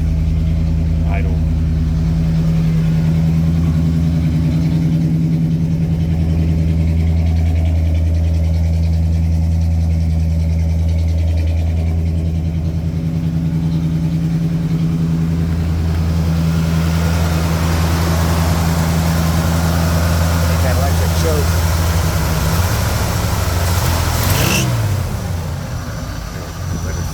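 A 1974 Ford Ranger XLT engine idles steadily with a low, even exhaust drone, with a slight exhaust leak on one side, continuous throughout; brief muffled talk appears late over the engine hum.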